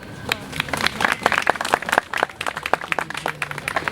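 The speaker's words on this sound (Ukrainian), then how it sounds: "давайте щирими оплесками ще раз привітаємо наших високоповажних гостей" An outdoor crowd at a Franz Liszt monument unveiling in Chernivtsi claps steadily in welcome, dense continuous applause with individual claps distinct, moderately loud, and no speech heard.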